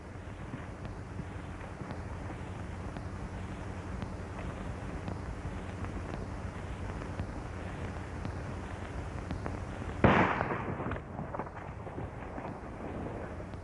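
A gunshot in a 1939 western film shootout: one sharp, loud report with a short decaying echo cuts through a steady rushing outdoor background, with nothing else prominent.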